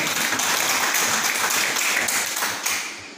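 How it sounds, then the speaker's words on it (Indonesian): An audience applauds for farmers at a rice-seed aid handover and farming outreach event, a dense, steady round of clapping that fades slightly toward the end. "kita tepuk tangan dulu Pak buat petani semua."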